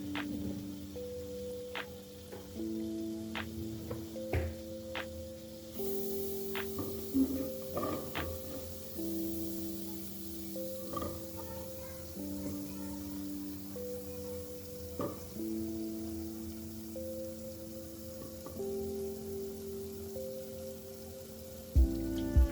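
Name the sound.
butter melting and sizzling in a pan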